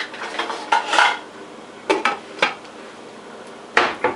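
A metal lid set onto a pot of boiling water, a few sharp clanks and rattles of metal on metal in separate bursts, close and clear with no voices.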